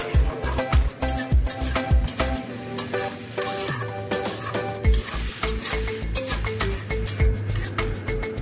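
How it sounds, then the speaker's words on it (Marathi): Ground spice paste for egg curry fries in oil in a wok, a steady sizzle broken by rhythmic scraping and clanking of a spoon stirring against the metal, close up and without speech. "हे वाटण तेल सुटेपर्यंत मस्तपैकी फ्राय करून घेणार आहे"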